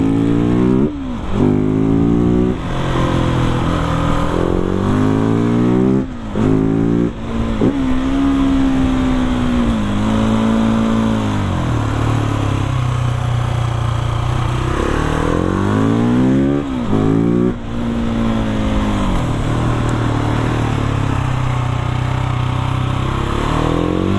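Husqvarna 701 supermoto single-cylinder engine revving hard on the throttle, loud and close, with repeated rising and falling surges as the revs climb through the gears, then brief drops between bursts, no speech.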